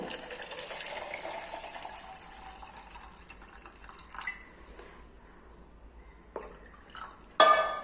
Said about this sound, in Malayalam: ഒരു അര മുക്കാൽ പാത്രം വെള്ളവും കൂടിയാണ് ഒഴിച്ചു കൊടുക്കുന്നത്